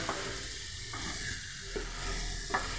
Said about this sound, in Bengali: মোচাটা দিয়ে বেশ নাড়াতে হবে অনেকক্ষণ